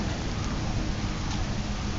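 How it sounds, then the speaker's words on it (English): Rain falls steadily outdoors in Guatemala, a dense, even hiss of drops with no speech and no pauses. "It's raining a little bit stronger."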